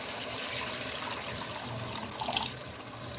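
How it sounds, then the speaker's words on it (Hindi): About a glass of water poured into a cooking pot of mung dal pakora curry, making a steady splashing, gurgling pour of moderate loudness throughout, with no talking. "तो अब यहाँ पे मैं इसकी 1 गिलास के करीब मैं इसमें पानी ऐड करूँगी।"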